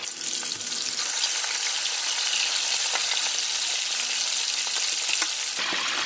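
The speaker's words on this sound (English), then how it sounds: "If the fish is ready, it means that we can move them easily and fry like that" Fish deep-frying in hot oil in a pan for Thai sour curry, kaeng som, giving a steady, loud, dense sizzle with faint crackles throughout, close by with no talking.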